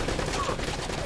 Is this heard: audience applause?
no